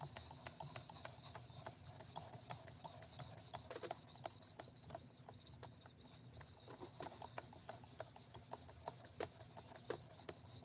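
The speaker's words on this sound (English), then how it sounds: "now we're on the ceramic right here, and just basically polishing the edge a little bit" A Kizer Nice Guy knife edge being polished on a fine ceramic sharpener, giving soft, steady rasping strokes that repeat in a continuous rhythm, close and fairly quiet with no talking.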